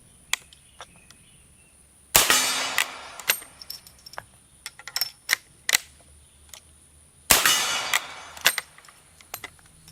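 A Springfield Trapdoor breech-loading rifle fires twice, loud sharp reports a few seconds apart, each followed by metallic clicks and clacks as the breech block is worked and reloaded.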